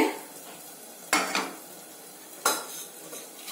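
Garlic in oil on a hot tawa, a quiet background sizzle broken by two sharp metallic scrapes and clinks of a spatula against the pan, close and otherwise calm, no speech.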